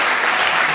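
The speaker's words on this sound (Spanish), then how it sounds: "denle un fuerte aplauso al Señor, hermano" A brief, loud burst of dense applause from a church congregation clapping for the Lord during a sermon on the resurrection.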